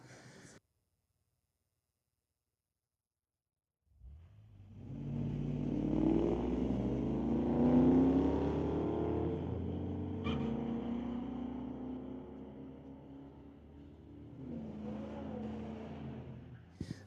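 A 1997 Chevy 1500 pickup and a 1994 Mustang at an NHRA Summit ET Series drag race final in Mission, with a loud, sustained engine roar rising after a few seconds of silence, then a second, fainter engine swell late on.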